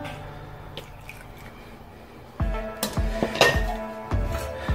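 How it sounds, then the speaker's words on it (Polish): A spoon clinks and scrapes against a pot and glass jar while hot brine is ladled in for canning red cabbage salad, with several sharp metallic taps close by. "teraz wezmę sobie normalnie łyżkę i do pełna zaleję tą zalewą, która jest w garnku"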